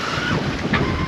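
Waves and heavy swell at sea pound around a small sailboat under 5 metres on an open-ocean passage toward Gibraltar, with steady wind roar buffeting the microphone and a brief splash surging through near the end.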